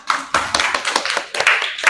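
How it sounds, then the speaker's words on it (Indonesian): Students in a school classroom give a short round of applause for a presenting group, a loud, close cluster of uneven hand claps in several bursts. "Tepuk tangan ya."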